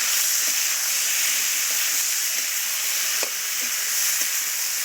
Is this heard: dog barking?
no